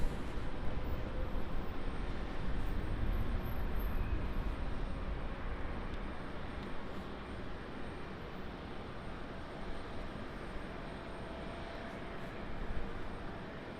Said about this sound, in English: Embraer pushback